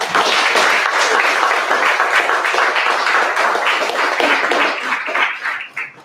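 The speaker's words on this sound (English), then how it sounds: "Give him that round of applause." Congregation applauding a young man after his tribute at a memorial service, loud sustained clapping from many hands that fills the room and tapers off near the end.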